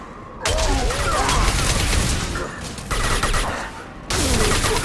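Sustained bursts of gunfire from the video game Mass Effect 2, loud and continuous with brief pauses between volleys, mixed with game effects and some voice-like sounds.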